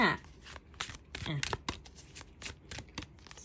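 Tarot-style fortune-telling cards are shuffled close up in a quick run of crisp riffling and flicking bursts, while someone talks over them.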